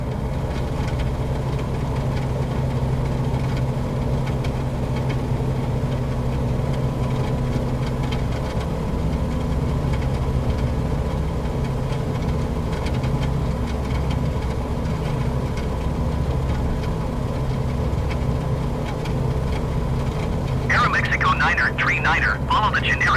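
A light aircraft engine hums in a steady, close drone on departure from Mexico City airport, with radio voices and talk mixed in and a brief higher burst near the end.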